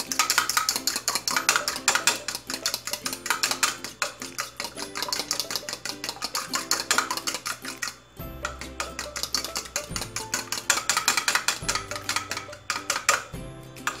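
Eggs with a pinch of salt being beaten for a simple omelette, a utensil clattering rapidly and steadily against the bowl in close, continuous strokes, with a brief pause partway through.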